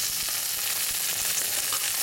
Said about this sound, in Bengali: এর সঙ্গে কাজু কিশমিশটা একটু ভাজা ভাজা করে নিয়ে